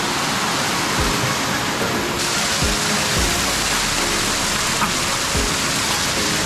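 Meethirigala waterfall pours steadily in a dense, continuous broadband rush, close and loud, with a few low thuds of water impact and no talking.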